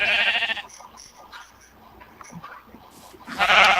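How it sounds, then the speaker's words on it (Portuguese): Sheep bleats from the Minecraft video game, a short nasal call at the start and another near the end, with quieter game noises in between and no talking. "Não, peraí, vamos domesticar a ovelha."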